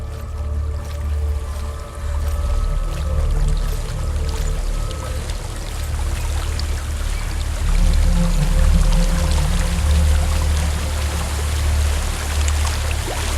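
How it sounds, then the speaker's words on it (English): Steady rushing waterfall ambience from the video game Hellblade: Senua's Sacrifice, a continuous loud broadband pour of falling water with a deep low rumble, unbroken and close throughout. "There's a waterfall."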